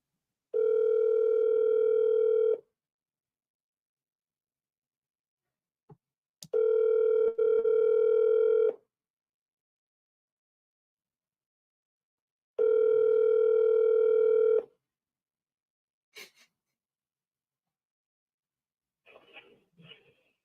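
A telephone tone sounds in three long, steady bursts separated by silence while a business cold call is placed, followed by a few faint clicks and rustles near the end.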